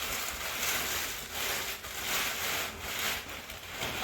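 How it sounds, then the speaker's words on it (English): A nylon stuff bag being handled while packing an ultralight backpack, giving a continuous close scuffing and rustling with soft swells of crinkle and no talk. "You then take your nylon flume bag,"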